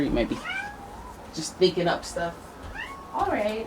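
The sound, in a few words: cat meowing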